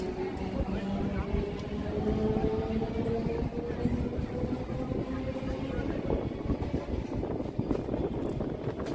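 A Barui Para local train on the Sealdah–Howrah chord line rumbles along near Dakshineswar, a continuous low rolling clatter with a steady drone heard from aboard, while voices talk faintly underneath.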